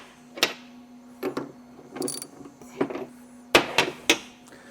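Wrench tightening the set screws and retainers on a Prodigy joint during a rebuild, giving a series of sharp metallic clicks and ratchet-like ticks in irregular bursts, close and fairly loud, with no talking.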